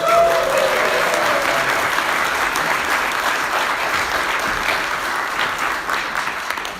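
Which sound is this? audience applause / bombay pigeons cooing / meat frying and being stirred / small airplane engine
audience applause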